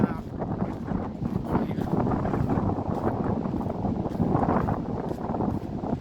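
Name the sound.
wind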